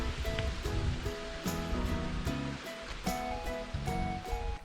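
Hot, bubbling geothermal pool at Waiotapu thermal area in New Zealand, its acidic green water churning in a steady, dense wash of bubbling and surging close by, with no talk over it.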